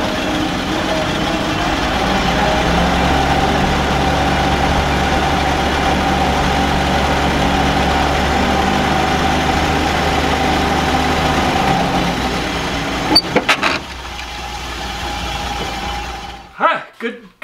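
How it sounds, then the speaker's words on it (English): Restored Willys jeep engine running rough and not at full power, a loud, steady close rumble that fades near the end and gives way to a few short knocks and brief voices. "The engine is not fully up to power."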